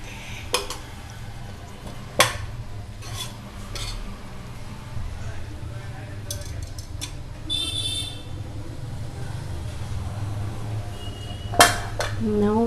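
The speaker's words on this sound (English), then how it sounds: "Like this we have to just flip the pieces and mix them gently." Fish pieces for an Andhra-style village fish curry being flipped and gently mixed in a pan, with sparse clinks and scrapes of a utensil spread over a low steady hum and some faint distant background noise.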